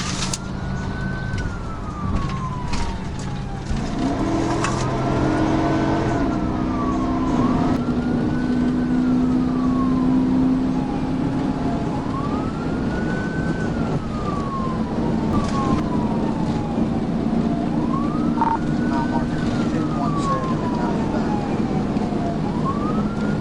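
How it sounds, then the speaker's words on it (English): A police car siren wails during a motorcycle chase, a loud rising and falling electronic sweep repeating steadily for over twenty seconds, with engine and road rumble beneath. "He activated his emergency lights and siren to perform a traffic stop."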